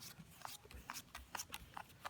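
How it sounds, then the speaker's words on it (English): A deck of cards is shuffled in quick, uneven riffles and flicks, each a short crisp rustle, heard close and faint without talk. "Give them a good shuffle."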